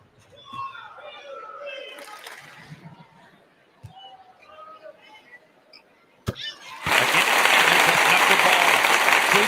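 Arena crowd at a women's college basketball game, LSU against Alcorn State, bursts into loud, sustained applause and cheering after a player drives one-on-three and draws a foul, following a stretch of scattered murmuring and chatter.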